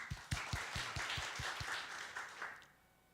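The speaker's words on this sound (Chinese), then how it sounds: "好，拍拍手。" An audience claps at a Wednesday church prayer and testimony meeting, rhythmic applause that swells briefly and then thins out and fades within a few seconds.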